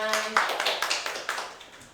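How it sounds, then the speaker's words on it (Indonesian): A high school classroom breaks into brief applause, many hands clapping together in a dense, close burst that gradually thins out, with a voice heard at the start. "Berikan tepuk tangan."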